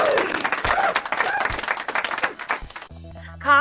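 Applause sound effect on a podcast intro: a crowd clapping and cheering with scattered voices mixed in, cutting off abruptly into a short burst of electronic music.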